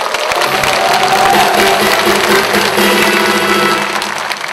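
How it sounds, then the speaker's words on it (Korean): Audience at a Saemaul Undong community gathering in Naju claps in self-congratulation, a steady, dense wash of applause sustained evenly for several seconds without pause. "우리 자축 한번 박수 한번 해주십시오"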